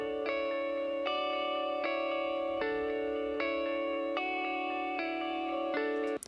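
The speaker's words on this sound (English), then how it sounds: "Delay and reverb from the Odo Bim and Bam." Sustained guitar notes wash together through Odo Bim delay and Bam reverb pedals, each new chord swelling in at a steady pace while the echoes and reverb tail blend beneath, heard alone with no voices.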